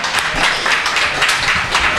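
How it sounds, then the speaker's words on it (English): A live radio show audience applauds Mike Klonsky with steady, dense clapping from many hands, sustained and fairly loud throughout. "Let's have a big round of applause for Mike Klonsky"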